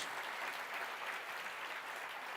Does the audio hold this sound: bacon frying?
no